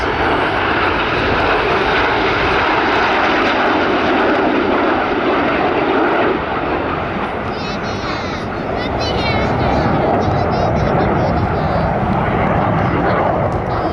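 Red Arrows jets roar overhead during their rollback manoeuvre at the Midlands Air Festival, a loud sustained engine rush filling the whole stretch, with a commentator talking over it throughout.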